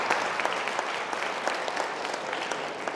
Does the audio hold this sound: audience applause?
yes